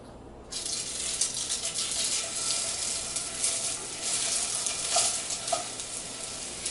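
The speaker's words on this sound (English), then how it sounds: "now we're ready for searing the patty. So I like using the cast iron for it" A beef patty sears in oil in a cast iron pan with a loud, continuous sizzle that starts abruptly and holds steady, with a few brief spattering pops near the end and no voices.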